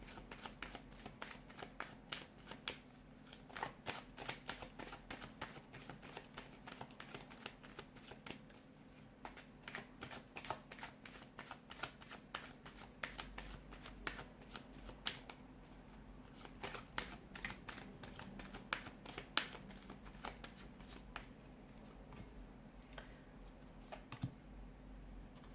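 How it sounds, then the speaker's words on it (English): Tarot cards are shuffled again and again, rapid riffling bursts close by and fairly quiet, continuing for the whole stretch. "give the cards a shuffle and begin."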